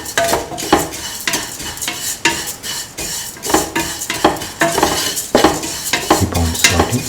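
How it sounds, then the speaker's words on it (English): Vermicelli pasta and shallots sauteing in a pan with salt, with a utensil repeatedly stirring and scraping against the metal in uneven strokes over a light sizzle, close and steady throughout. "Keep on sauteing."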